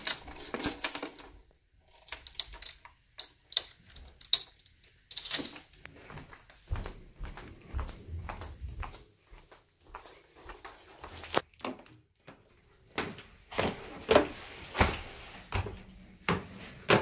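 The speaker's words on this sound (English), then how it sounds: "Lock this door back up." Clicks, rattles and knocks of a cabin door being locked at a wooded resort cabin in Sevierville, Tennessee, a run of sharp close metallic taps and thuds scattered irregularly, with no talk.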